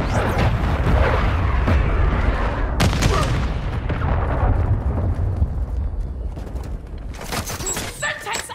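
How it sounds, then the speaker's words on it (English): Cruise missile strike in Call of Duty Modern Warfare II: a dense, loud barrage of booming explosions and crackling blasts rolls on continuously, with sharp impacts scattered throughout and a radio-style game voice in the mix. "Friendly cruise missile approaching target."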